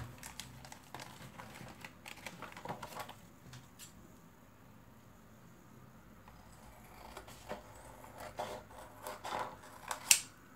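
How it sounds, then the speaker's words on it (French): Scissors snip around the edges of a laminated drawing, giving quiet, irregular crisp cuts and rustles of plastic, close by, with a sharper cut near the end. "je vais venir découper les bords et mon dessin sera fini"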